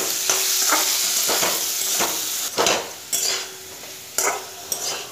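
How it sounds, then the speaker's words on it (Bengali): Potato pieces frying in a pan with salt and turmeric powder, a continuous close sizzle punctuated by several sharp scrapes and clinks of the spatula against the pan. "আর দিয়ে দেব 1/4 চামচ হলুদের গুঁড়ো দিয়ে এবার আলুটাকে ভেজে নেব"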